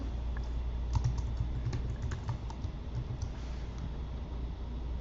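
Keys clack on a computer keyboard as a password goes in, a rapid flurry of close, soft presses in the first half followed by a few sparser strokes over low background hiss.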